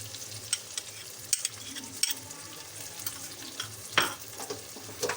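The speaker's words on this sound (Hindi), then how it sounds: "इसको हमें अच्छे से फ्राई करना है" Chicken pieces fry with curd in a pan, with a soft, continuous sizzle broken by several sharp scrapes and clinks as a spoon stirs the mixture, fairly quiet and close.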